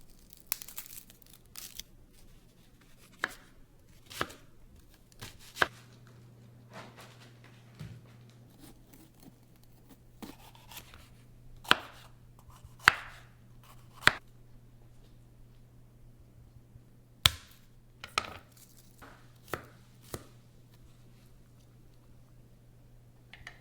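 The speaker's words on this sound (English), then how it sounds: "we're going to chop up 1/2 of an onion, 1/2 of a green bell pepper, and 3 cloves of garlic" Sharp, sporadic knife taps on a cutting board chopping onion, green bell pepper and garlic, with irregular spacing and long pauses, over a steady low hum.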